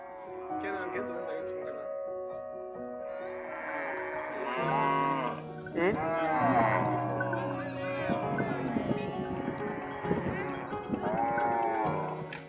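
Angola Longhorn cattle low in long, drawn-out moos, several calls overlapping and rising in loudness, with a voice speaking over them.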